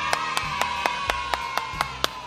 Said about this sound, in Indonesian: Yang setuju berikan tepuk tangan dulu buat Tuhan